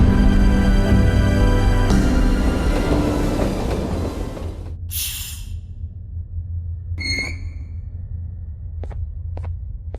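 A train ride in the video game Garten of Banban 8: a loud rolling rumble that fades after a few seconds, a bright hiss and a ringing chime, then a quieter low hum with a few sharp clicks.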